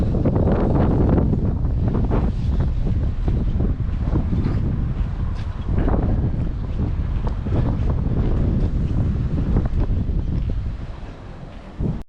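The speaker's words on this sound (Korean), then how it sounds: "아우 춥네요 바람 불어가지고" Strong wind blustering outdoors beside a Korean highway on a cold day, a loud continuous roar buffeting the microphone for the whole stretch, easing slightly near the end.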